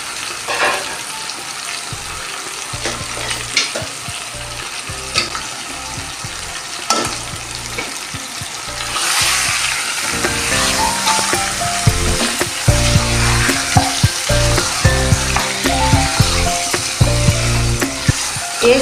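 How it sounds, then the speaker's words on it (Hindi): Chicken frying with garlic and ginger for degi achar gosht, a steady close sizzle with stirring and scraping in the pan that grows louder partway through. "लहसुन अदरक में इसको फ्राई करेंगे चिकन को भी"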